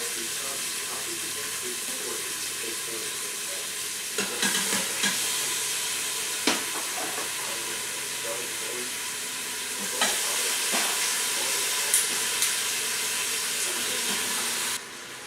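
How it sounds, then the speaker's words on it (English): Oxtail meat browns in an Instant Pot for a Jamaican oxtail stew. A continuous close sizzle and frying hiss carries through, with a few louder bursts and clatters. The hiss swells partway through and then cuts off abruptly near the end. "right now I just want to brown the meat really good"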